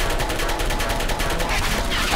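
Turret gunfire in the video game Portal 2: a rapid, rhythmic burst of shots repeating evenly at close range and fairly loud for about two seconds.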